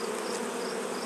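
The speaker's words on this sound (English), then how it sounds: "you've still got a lot of bees here" Honey bees around a backyard hive in late summer hum in a dense, continuous buzz, close and steady with no voices.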